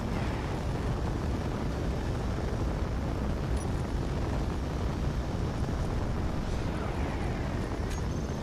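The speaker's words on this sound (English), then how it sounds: "Turrets are opening up." Turrets open fire in a Space Engineers space battle against Reaper ships, a thick, steady rumbling roar of gunfire with faint sharper pops on top, continuous and fairly loud.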